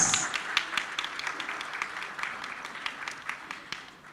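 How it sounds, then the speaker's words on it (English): Audience applause at the India Web Fest entertainment conclave, a fairly quiet but continuous patter of many hands clapping, with sharp individual claps popping out over a soft hall background. "Please give a big round of applause"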